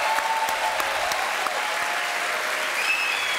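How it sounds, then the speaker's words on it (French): A French television studio audience applauds during a live call-in talk show, a continuous, even wash of clapping that holds steady for several seconds without any talk. "On va quelques applaudissements monsieur."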